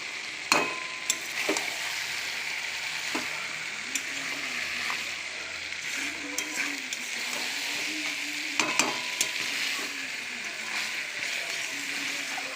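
Mutton and potatoes being stirred and fried in a pan make a continuous close sizzle, broken by repeated scraping strokes and occasional sharp clinks of the spoon.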